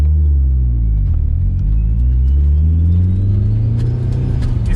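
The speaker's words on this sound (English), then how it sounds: "So we'll just take it for a quick test drive to see how it is." Mitsubishi Evo track car on a test drive, freshly set up with new tyres and suspension: a loud, steady engine drone and road rumble from inside the cabin, with the pitch rising gradually as it accelerates.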